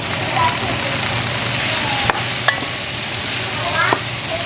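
Vegetables with frozen cubed garlic sauté in coconut oil, giving a loud steady close sizzle throughout, with a few sharp clicks and scrapes from the stirring utensil against the pan.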